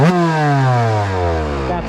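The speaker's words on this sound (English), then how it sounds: "Of course the two-stroke sounds way better." A Yamaha YZ125 two-stroke motorcycle with an aftermarket head and pipe revs loud and close, its buzzing pitch rising in one quick sweep and then easing off.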